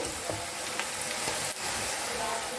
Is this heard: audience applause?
no